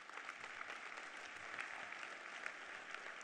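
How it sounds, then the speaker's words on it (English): A crowd claps steadily at a leadership luncheon, dense moderate applause sustained without pause. "Let's give them a round of applause."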